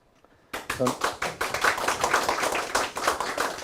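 An audience at a 2021 Yangcheon-gu labour policy forum bursts into applause, a brisk run of sharp, fairly close hand claps that continues steadily after starting abruptly.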